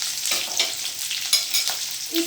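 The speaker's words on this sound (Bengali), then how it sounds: "একটু হালকা নাড়াচাড়া করে নিচ্ছি" Green chillies and a chopped onion fry in a pan while a spatula stirs them, giving close, intermittent scraping strokes over a soft, steady sizzle.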